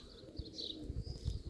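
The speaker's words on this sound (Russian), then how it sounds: "Мраморная голубка летает." A marbled pigeon flying with a flock of other pigeons outdoors, giving brief faint wingbeats and soft chirps that are quiet and a little distant.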